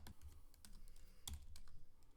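Quiet, close keystrokes on a computer keyboard, a quick irregular run of soft clicks with no voices.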